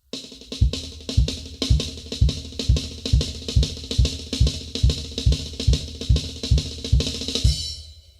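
A drum kit loops a paradiddle-diddle rudiment with the kick drum taking the last left-hand note, played loud and close as a steady, fast repeating pattern of snare strokes punctuated by regular bass-drum thumps, running for several seconds before stopping.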